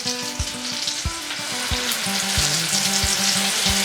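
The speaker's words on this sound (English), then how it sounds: "now that I got this butter going, I'm going to add these first couple steaks" Venison steaks sizzle loudly in melted butter in a pan, a dense, steady frying hiss with low thumps and rattles of the pan underneath, close up and with no talking.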